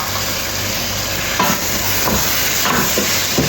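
Tomatoes sauté in a pan for masala chicken biryani, a loud steady hiss and sizzle under a few spatula scrapes and knocks, with no one speaking.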